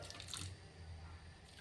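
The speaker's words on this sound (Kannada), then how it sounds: "ಈ ಬೆಲ್ಲ ಸ್ವಲ್ಪ ತೊಯ್ಯಷ್ಟು ನೀರು ಹಾಕ್ಬೇಕು." A short pour of water trickles onto jaggery in a kitchen vessel, a soft close splash that fades into a steady faint hiss.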